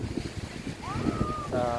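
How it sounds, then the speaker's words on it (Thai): Wind gusts across the microphone and sea waves wash at Phayun beach in Ban Chang, Rayong, in a faint, brief outdoor clip with a voice over the surf. "ตรงนี้เป็นทะเลบ้านจางนะครับพี่น้อง เป็นทะเล หาดพยุนครับพี่น้อง"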